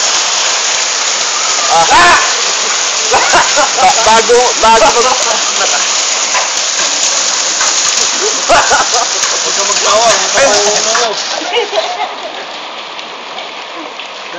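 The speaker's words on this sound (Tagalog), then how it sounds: "Ulan na ng yelo ang edama." Hail pelting surfaces during a heavy hailstorm in Yadamah, a dense steady clatter of stones close by throughout, with excited voices talking over it before the din eases slightly near the end.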